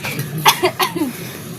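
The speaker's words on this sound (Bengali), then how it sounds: "আস্তে আস্তে কাশি হচ্ছে" A few short, close coughs from an elderly person in quick succession, dry and fairly loud, with no talking.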